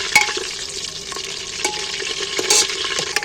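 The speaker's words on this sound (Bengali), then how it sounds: "এগুলোকে একটু নাড়াচাড়া করে একটু বেশ ভালো করে ভেজে নেবো লাল লাল করে" Potatoes are stirred and fried in a pan for a mutton dish, a steady close sizzle broken by sharp scraping knocks of the spoon against the pan.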